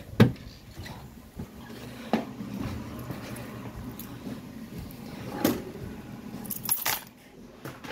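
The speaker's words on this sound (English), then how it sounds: "put the keys back in the house" Keys jangle and clink close by in a house, in several short rattling bursts with quiet pauses between them and a faint door-like sound.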